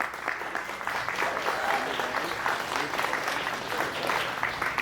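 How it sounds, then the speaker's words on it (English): Audience applause at a live comedy show in the Schulz Brau brewery, a full, continuous round of clapping from a room-sized crowd with no speech. "let's give them a huge round of applause"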